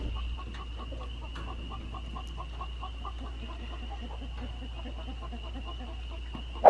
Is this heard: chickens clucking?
yes